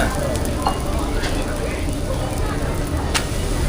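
Holige flatbread frying in oil on a pan at a food court in Hassan, giving a steady close sizzle with occasional crackles throughout.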